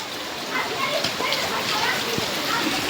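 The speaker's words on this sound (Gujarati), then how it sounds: "વરસાદ બહુ વધી ગયો છે" Heavy rain pours down steadily during a downpour in Mahuva, a dense continuous hiss of drops on surfaces close by with no pause, filling the whole moment at fairly high volume.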